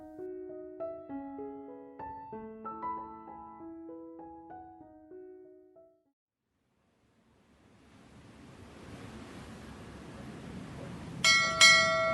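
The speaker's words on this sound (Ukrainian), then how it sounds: "Вдарив корабельний дзвін." A soft melodic chime tune fades out, then ocean surf swells up and a ship's bell strikes twice in quick succession, ringing bright over the waves.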